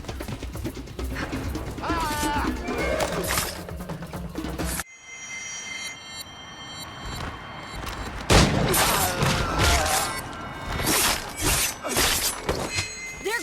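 Rapid bursts of gunfire and sharp cracks ring out in a loud, busy Assassin's Creed game soundscape during an outpost assault, with a brief lull before heavy shooting resumes.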